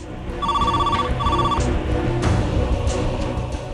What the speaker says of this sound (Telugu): ఫోన్ లిఫ్ట్ చేయి